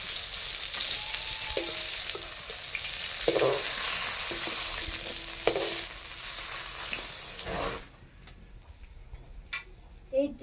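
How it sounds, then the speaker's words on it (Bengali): Cut potatoes sizzle and crackle in hot oil in a pan after fish was fried in it, a loud continuous frying hiss with small stirring knocks, then the sizzle drops away sharply near the end. "এই তেলে আমি আলুটা ভেজে নিচ্ছি একটু।"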